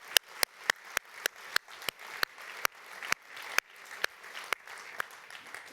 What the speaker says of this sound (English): So, yes, another round of applause.